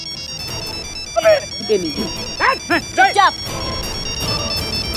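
A mobile phone rings while a call is placed to a friend. The ringtone runs steadily in the background as people talk over it nearby.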